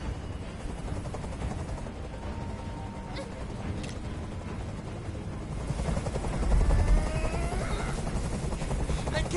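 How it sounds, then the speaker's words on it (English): A helicopter hovers nearby in the video game Detroit: Become Human, its steady beating rotor drone filling the background and swelling louder partway through, while voices talk over it. "I can't stand that noise anymore. Tell that helicopter to get out of here."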